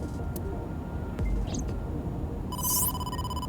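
A phone ringtone sounds in the video game AI: The Somnium Files, a bright electronic chime bursting in near the end over a low synthetic ambient backdrop, preceded by brief soft digital blips.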